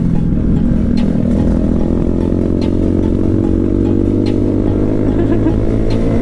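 A motorcycle idles loud and close at a roadside hangout spot in Karawang, its engine warming up with a steady, rough rumble and mild revving throughout, with no pauses.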